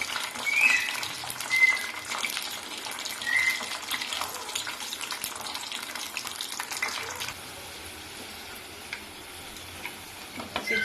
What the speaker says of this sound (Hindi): दूसरी तरफ मैंने पैन में कर लिया है ऑयल गरम, और इसके अंदर मैं बनाऊंगी चिप्स